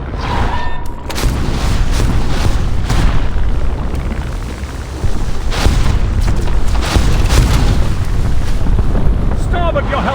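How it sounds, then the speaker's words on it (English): Torpedo striking an enemy ship in a World War Two submarine attack: a heavy, rumbling explosion and roar of water that sustains for several seconds, loud and close, with wind-like noise throughout. "Torpedo impact!"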